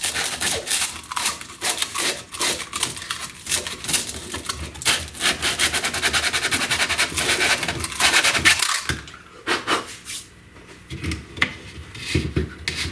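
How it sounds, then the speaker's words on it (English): Rolled-up 80 grit sandpaper rubbing inside a part of a 3D printed rigid heddle loom, a close, rapid scratchy back-and-forth rasp that runs steadily and loosens into sparser strokes near the end. "take a piece of sandpaper, some 80 grit, and roll it up and get it in there"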